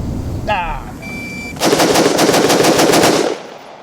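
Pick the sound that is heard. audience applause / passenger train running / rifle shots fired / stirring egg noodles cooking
rifle shots fired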